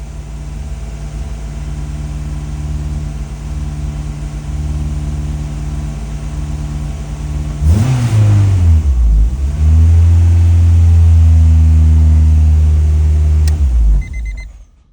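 Honda B20 VTEC engine at its first start-up, a steady loud idle that suddenly surges into two sharp revs, then holds a higher rumbling idle before cutting off.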